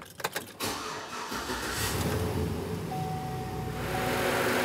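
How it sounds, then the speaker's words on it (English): A car engine with a coolant temperature sensor fault cranks and catches after a few clicks, then settles into a steady idle while the cooling fan roars on high, loud and continuous. "as soon as you start it up, the cooling fan turns on and it goes to high"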